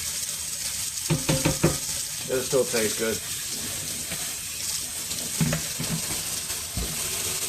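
Tap water running into a kitchen sink while grease is rinsed from cooked chili meat, a steady close hiss with intermittent clatters and sloshes as the pan is shaken, under brief talk.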